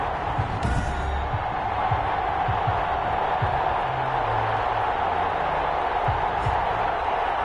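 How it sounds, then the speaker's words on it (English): Dense stadium crowd roar at a Los Angeles Rams versus New Orleans Saints NFL video game matchup, steady and full throughout with scattered whoops and low rumbles, loud and continuous. "This crowd is ready as their guys get set to match up between the Los Angeles Rams and the New Orleans Saints."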